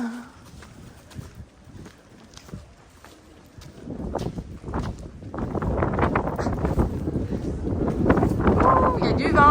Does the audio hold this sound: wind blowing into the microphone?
yes